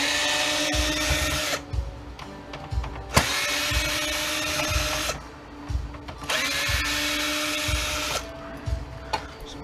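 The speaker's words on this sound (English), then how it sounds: "Let's get some of these screws out." A power drill backs screws out of a circuit board inside a rear projection TV in bursts of whirring, separated by brief pauses with faint clicks, up close.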